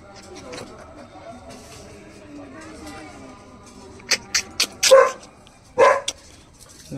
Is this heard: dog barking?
yes